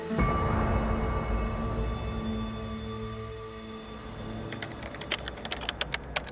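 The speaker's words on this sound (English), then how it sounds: "My fingers fly over the keyboard." Rapid keyboard typing over a steady background hum, turning into sharper, spaced clicks toward the end.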